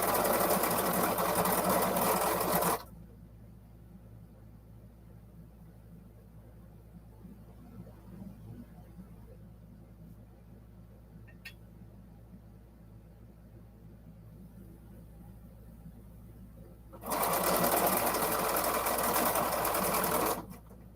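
A domestic sewing machine stitches in two loud, close bursts of a few seconds each at the start and end, with near silence between them.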